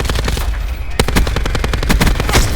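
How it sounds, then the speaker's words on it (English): Rapid automatic gunfire in a first-person shooter game, loud and continuous bursts with sharp individual shots throughout, a heavy report near the start, dense and close with no talk over it. "I just got shot from the other side of the window"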